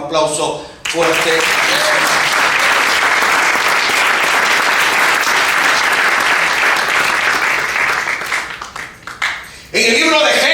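A church congregation applauds loudly, a dense, steady wash of clapping that swells in after a brief moment of talk and holds for about nine seconds before fading, with a voice heard at the start and end.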